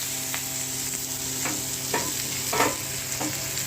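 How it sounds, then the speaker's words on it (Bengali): Onion and ginger frying in a hot spice tempering of cumin, bay leaf, dried chilli, nigella and fennel, a steady close sizzle broken by a few scraping stirs of the spoon, no voices. "এবার এই পেঁয়াজ আদাটা দেবো"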